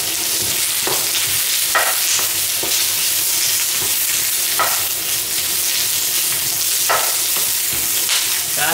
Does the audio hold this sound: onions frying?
yes